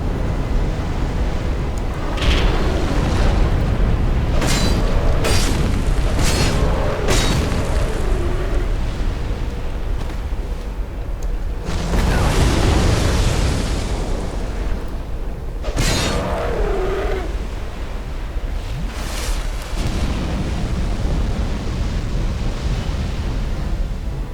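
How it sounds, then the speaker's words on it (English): Fire blasts erupt in the Iron Keep area of the Dark Souls 2 video game, a series of whooshing bursts over a constant rumbling, roaring background of game ambience with no talk. "Why the fire diverts like that? At a seemingly random angle."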